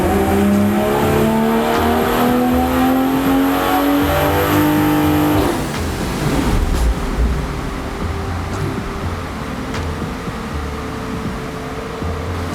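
BMW G20 M340i on a dynamometer, engine revving hard through rising gear pulls for several seconds before cutting to a lower idling drone, loud and continuous with no talking.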